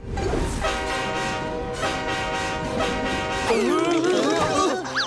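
A cartoon train approaches with its horn blaring steadily in loud, sustained harmonic blasts, then shrill, screeching sliding tones take over near the end, with no talk over it.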